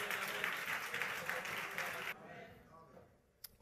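Congregation at a French-language church service applauding together, a dense sustained wash of clapping that stops abruptly partway, leaving a quiet room with a faint stray sound.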